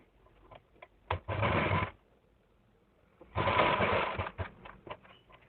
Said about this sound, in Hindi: पलटने के बाद यहाँ से हम सिलाई लगाएंगे।